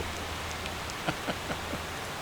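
Steady rain falls in the Motor Town driving game, a dense, even hiss throughout with a few soft drop-like taps standing out, no voices.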